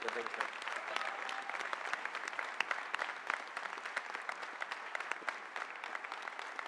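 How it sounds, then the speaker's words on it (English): An audience at a building trades press conference applauds for students, giving steady, sustained clapping from a crowd that fills the whole stretch at a moderate level. "Let's give them one more round of applause for these students."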